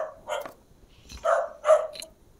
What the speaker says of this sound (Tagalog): Pasensya na kayo sa aking aso kasi nagugutom ata at saka mag-isa. Kaya tumatahol.